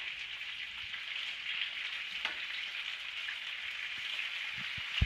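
Pieces of food browning in a frying pan give off a steady, even sizzle with a faint crackle, continuous throughout with a few small pops near the end and no voices.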